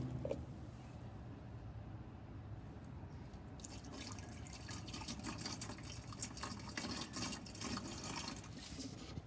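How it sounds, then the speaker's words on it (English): Water is poured into the windshield washer fluid reservoir of a 2006 Toyota Camry, a steady close splashing and trickling that grows louder partway through and runs without any talk. "And so we're gonna add water."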